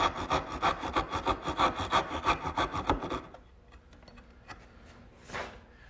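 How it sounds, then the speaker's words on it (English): A bandsaw cuts a wooden tenon with rapid rhythmic rasping strokes for about three seconds, then falls quiet, leaving faint workshop noise and a brief soft rustle. "Now using my bandsaw, I've made a couple cuts to give me the correct tenon height"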